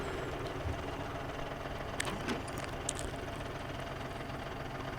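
A truck engine runs steadily in the SnowRunner video game, fitted with the best available engine; a constant low rumble holds for the whole stretch with no talk over it.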